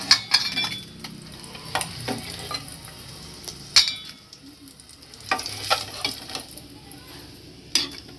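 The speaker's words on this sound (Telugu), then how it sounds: "గోల్డెన్ బ్రౌన్ ఎల్లో కలర్లో వచ్చేదాకా నేను వేయించుకొని తీసేసుకుంటున్నాం" Dry methalu fish fry in hot oil until golden brown, a steady close sizzle broken by sharp spoon clacks and scrapes against the pan at irregular intervals, with no voices.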